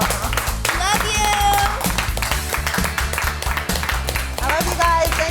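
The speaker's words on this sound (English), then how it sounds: "Thanks for cheering for me." Applause and cheering rise from an audience at a Big Buck Hunter event, mixed with loud music and a voice speaking over it throughout.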